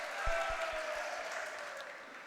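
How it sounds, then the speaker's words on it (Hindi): An audience at an All India Mushaira poetry gathering claps together, a faint, steady wash of applause from a crowd heard at a distance with a few soft low thumps at the start. "जरा एक बार तालियां बजाकर मुझे बताएं"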